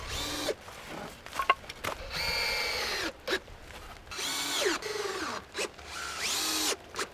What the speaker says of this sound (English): I'm gonna just screw on a couple of pieces of 1x4 just to extend it that extra 4 inches